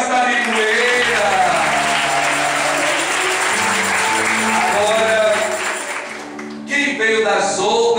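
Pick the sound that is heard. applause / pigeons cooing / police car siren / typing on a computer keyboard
applause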